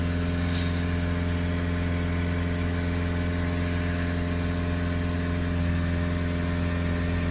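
A Peugeot Boxer 2.0 van diesel engine held at steady high revs, about 2500 RPM, during a particle filter clean, a constant droning roar with no change in pitch, close and continuous.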